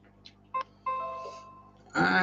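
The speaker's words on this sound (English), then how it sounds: "And now you get all the notifications for YouTube come through that I didn't click off yet." A phone sounds a quick run of short notification chimes and tones for incoming YouTube alerts, several brief beeps followed by a sustained tone, close and fairly clear before a louder burst of noise at the end.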